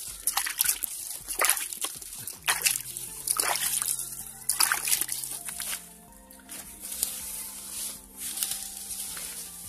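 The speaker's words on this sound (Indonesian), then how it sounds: "Langkah selanjutnya, kita tinggal memercikkan air ini ke media" Water is sprinkled and splashed by hand onto bamboo leaf compost in a series of close, uneven splatters and drips, with quieter gaps between pours and faint background tones.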